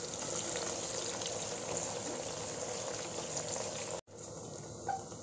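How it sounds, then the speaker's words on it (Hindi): Onions cook in a pan with a steady, soft, bubbling sizzle throughout, briefly cut off by one sudden gap before resuming. "अब डालते हैं इसमें प्याज और प्याज को 5 मिनट हम पका लेंगे"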